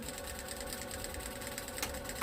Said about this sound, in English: we'll do a little basting stitch along the edge on this one